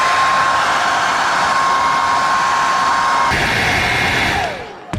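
A heat gun blows a loud, steady rushing roar with a faint whine while melting sealant into boot seams, shifting tone partway through before spinning down at the end.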